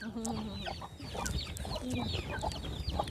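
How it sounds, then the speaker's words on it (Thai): Chickens cluck and chatter close by on a farm, with several overlapping birds making busy, continuous clucking and short squawks, alone without talk. "ไก่หลายครับ"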